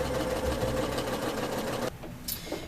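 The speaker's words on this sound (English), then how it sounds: "I'm going to run a 1/4 inch seam against both sides of my drawn line" A quilting sewing machine stitches a quarter-inch seam in a steady, fast mechanical whir that runs close and continuous, then stops abruptly near the end, leaving a faint click.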